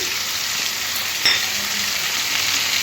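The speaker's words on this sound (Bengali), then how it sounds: "সবজির সাথে পেঁয়াজটা একটু নাড়াচাড়া করে মিশিয়ে নেব" Onion and mixed vegetables sizzle steadily in a pan as they are stirred together, a continuous close frying hiss with one brief utensil scrape partway through and no talking.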